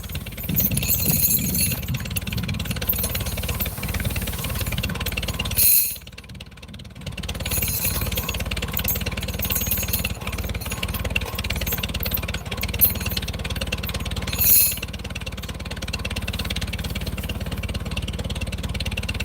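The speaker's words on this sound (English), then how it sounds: "Yeah, it's a good old tractor." An old Farmall H tractor engine runs steadily at a steady mid-pitched drone, close and continuous with slight rattles and one brief dip, no talk over it.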